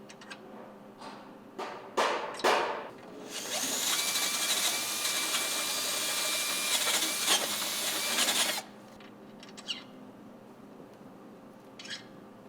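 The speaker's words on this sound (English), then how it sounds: "just take the drill bit, drill it out a little bit more until the pin slides in there nice and freely." Power drill boring out a spindle so a BSD pin slides in freely, a few short bursts, then one loud sustained whirring run of about five seconds that cuts off abruptly, followed by faint workshop clicks.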